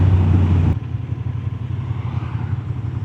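Honda Transalp 750 motorcycle engine pulls hard at around 4,000 RPM, a loud steady low drone with a sharp shift near the start, then continuing throaty rumble up close.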